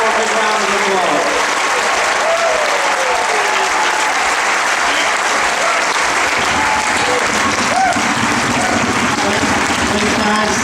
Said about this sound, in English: more big round of applause